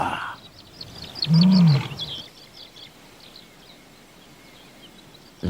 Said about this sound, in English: This is a lion. It goes roar,